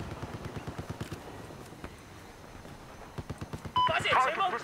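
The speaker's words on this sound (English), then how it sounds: "I've spotted hostile machine gun." Machine gun fire in Battlefield 4, quick rhythmic bursts of rapid shots at moderate distance, ending in a louder, harsher clash of noise, with game voice chatter heard alongside.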